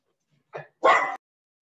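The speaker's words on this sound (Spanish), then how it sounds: "Mis perritos" Pet dogs bark and whimper indoors: a short yip followed by one louder, longer bark-like cry, close by, then silence.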